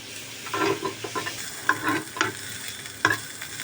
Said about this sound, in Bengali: গাজরটা সামান্য একটু ভাজা হোক